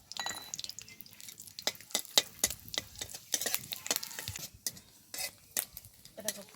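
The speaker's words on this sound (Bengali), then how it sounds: "দেখো, ফোড়নটা খুব ভালোভাবে ভেজে নিয়েছি" Dry red chillies and nigella seeds frying in mustard oil in a kadai, with a soft sizzle under sharp, irregular scrapes and clinks of a spoon against the pan.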